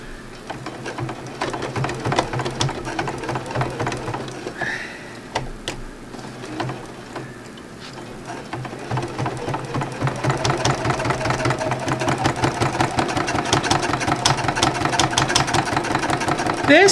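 A sewing machine thread-paints through as many as six layers of fabric, its needle hammering in a loud, rapid, steady mechanical rhythm that briefly slows midway and then runs continuously.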